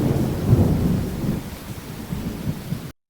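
Rain with rumbling thunder builds a stormy ambiance that plays alone at fairly strong level, low booming rolls swelling early and fading into steady rain noise before cutting off abruptly.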